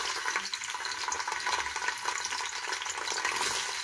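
Onion frying in hot oil, a dense steady sizzle and crackle, close and loud, running continuously without talk.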